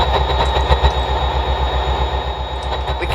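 Several simulated marine engines in the game Stormworks run together in a loud, steady low drone with a fast rhythmic throbbing pulse and no talk over it.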